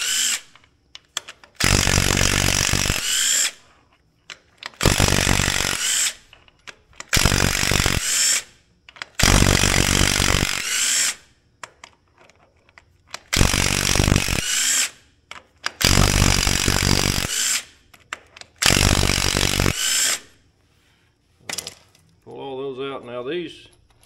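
Bursts of a power impact tool spinning out metric bolts on a backhoe during axle bushing repair, loud and close, six runs of a few seconds each separated by silence, with a brief whine at the end.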